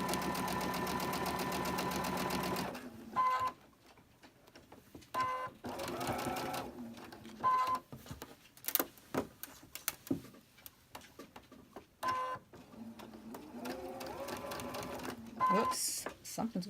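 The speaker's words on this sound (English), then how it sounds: "we're going to chain stitch all of these" A sewing machine chain stitches cotton fabric in loud, rapid bursts of whirring stitches, starting with a long run and then breaking into short, stop-start spurts separated by quieter pauses and talk.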